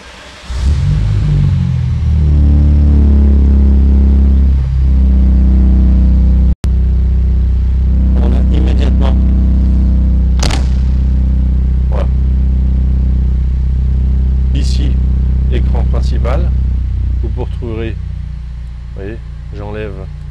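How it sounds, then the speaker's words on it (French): A Morgan Plus Four engine starts at the push of its start button, catching suddenly and settling into a loud, steady, close idle rumble that eases slightly near the end, with a voice talking over it. "appuyer sur le bouton Start de démarrage"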